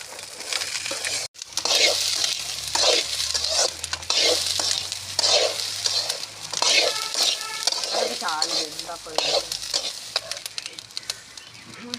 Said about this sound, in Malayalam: ഇന്ന് ഞാൻ ഇവിടെ അച്ചാറിലേക്കുള്ള വെളുത്തുള്ളി വാട്ടാൻ പോവുകയാണ് മക്കളെ